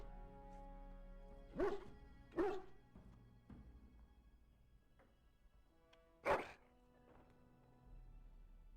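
A dog barks in Dragon Age: Origins, with several sharp, fairly loud barks spaced apart over steady game ambience and background music.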